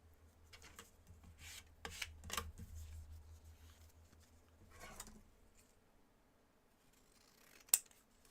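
Scissors trimming paper for a junk journal, a few quiet, close snipping and sliding cuts early on, then near silence and one sharp click near the end, with no talking.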